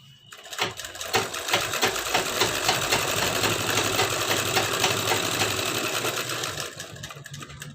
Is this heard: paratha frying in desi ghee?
no